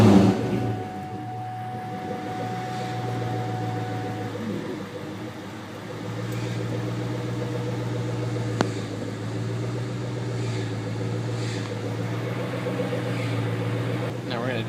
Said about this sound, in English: we're going to get in and start the car